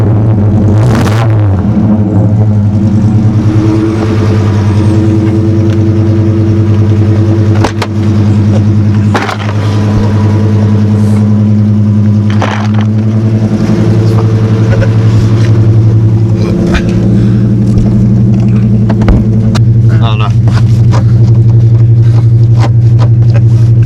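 A Volkswagen Passat B2 drives along with its engine loud and close, a steady droning hum that rises and falls as it revs, with occasional knocks and bumps over the run and no talking.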